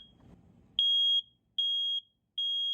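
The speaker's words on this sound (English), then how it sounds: "The long chirp you hear when the test button's pressed, no hesitation, just a strong response." A smoke detector powered by a PKCELL heavy-duty 9V battery gives three loud, clean, steady high-pitched beeps after its test button is pressed. Each tone lasts under half a second and is separated by short silences, following a brief low rustle.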